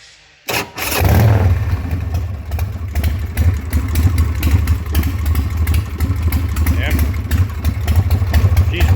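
A Harley-Davidson motorcycle engine cranks and catches after a brief silence, then settles into a loud, close, lumpy idle with a throbbing low rumble and mechanical clatter.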